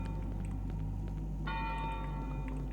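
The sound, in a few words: church bell ringing in the video game Cry of Fear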